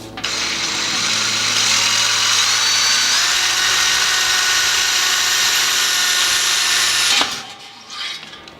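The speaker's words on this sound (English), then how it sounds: "I want to drill a pilot hole first." Power drill boring a pilot hole through the bottom of a homebrew cart fitting, a loud, high, steady whine held for about seven seconds before cutting off abruptly, then a brief faint rattle.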